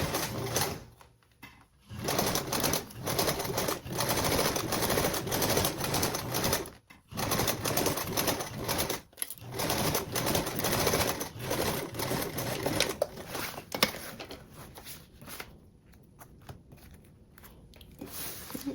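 A sewing machine stitches a tote bag seam across its straps at a 3/8 inch allowance, whirring in long close bursts with short pauses between runs.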